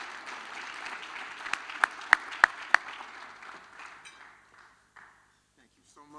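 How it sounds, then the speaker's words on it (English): Audience applause at a law students' awards dinner and gala, a steady crowd clapping with a few sharp, loud claps standing out near the microphone before it fades away toward the end. "Give him a loud round of applause"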